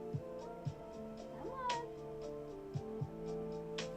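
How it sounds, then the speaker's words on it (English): A house cat meows softly a few times over a steady tonal background hum, with faint clicks and ticks scattered through the clip. "Oh, this cat."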